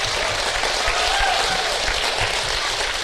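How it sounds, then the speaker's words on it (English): An audience applauds a panel at a talk about social media, with sustained, even clapping throughout and no voices over it. "Round of applause for our panellists, everyone."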